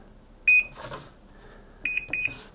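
A microwave oven being repaired after a magnetron replacement beeps as it starts: one clear electronic beep, then a double beep, each followed by soft clicks and rustling handling noise.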